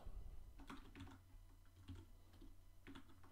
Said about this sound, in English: I re-hit the insert on my keyboard